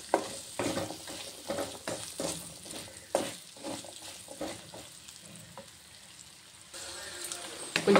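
Salted onions fry in a pan with a continuous sizzle while a spoon stirs and scrapes them in repeated strokes, close and moderately loud.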